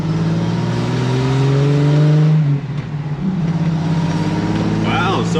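A Jeep Wrangler YJ with a 4.0 engine and larger-diameter tires accelerates in second gear, its loud close engine drone climbing in pitch before dipping briefly and pulling on steadily.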